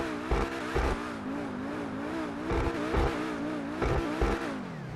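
The Pegassi Tempesta supercar's engine in GTA 5 Online revs repeatedly: a loud, close engine tone climbs and falls in waves, with several sharp bursts and possible tire squeal over about five seconds.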